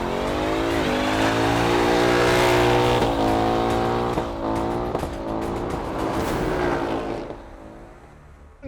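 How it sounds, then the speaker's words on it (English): A Ford Mustang GT V8 and a rear-wheel-drive Genesis G70 V6 roar side by side in a drag race, engines loud and sustained with rising revs and gear shifts, then the noise drops away sharply near the end. "Today's motor drag battle is a rear-wheel drive showdown between Korean V6 and American V8."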